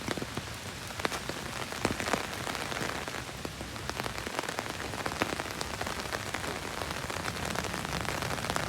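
Steady rain patters on an umbrella during a walk through a park, a dense, even drumming of drops that stays constant and close throughout, with no talking.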